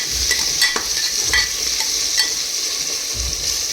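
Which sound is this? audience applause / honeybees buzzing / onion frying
onion frying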